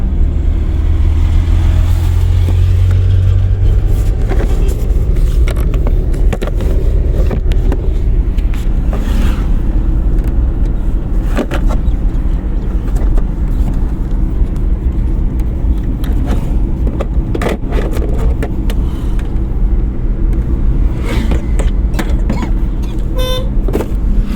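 A car on a road during a driving lesson rumbles on with steady engine and road noise, close and continuous, with horns from other traffic sounding now and then.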